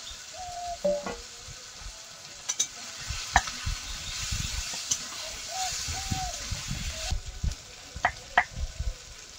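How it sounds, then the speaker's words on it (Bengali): Potatoes tossed with spices fry in a pan for a Bengali fish curry, a soft continuous sizzle broken by scraping strokes and occasional sharp clinks of the spatula, with faint background noises here and there. "এবার এই আলুগুলো দিয়ে দেবো, দিয়ে মশলার সঙ্গে আলুটা কষিয়ে নেব।"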